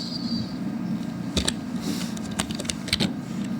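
Quick, light keystrokes on a computer keyboard, a short irregular burst of clicks heard close and alone over a faint room hum.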